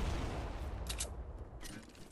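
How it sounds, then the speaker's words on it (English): Gunfire in a Fortnite Battle Royale squad match: a few sharp bursts of shots crackle over a dense, noisy game backdrop, fairly faint and spaced across about two seconds with no talk. "Oh, they're shooting at us right now."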